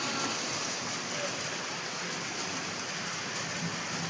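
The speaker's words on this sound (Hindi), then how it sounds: "गाइस देखो उधर से कितनी तेज बारिश हो रही है" Heavy rain pours down in a steady, dense hiss that stays constant throughout, close and fairly loud, with no clear speech over it.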